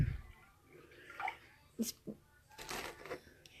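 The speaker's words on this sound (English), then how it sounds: "we just pour that right into the pan" Milk pours from a measuring cup into a cooking pan, a brief soft liquid splash and trickle near the end, quiet and close amid faint kitchen handling noises.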